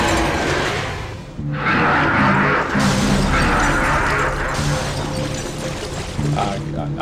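A magical barrier shatters in the action game Devil May Cry with a bright glassy crash, heard among game music and effects, with a second shattering following a little later.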